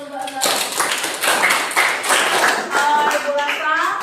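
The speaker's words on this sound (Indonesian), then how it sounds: "tepuk tangan dulu" A class of pupils gives a round of applause in a school classroom, with dense, steady hand clapping lasting several seconds and voices mixed in.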